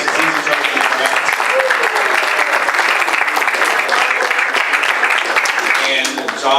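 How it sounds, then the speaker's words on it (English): Audience at a RefreshMiami healthcare tech event breaking into loud, sustained applause, dense clapping filling the room for several seconds, with voices underneath. "Everyone give Peter a round of applause"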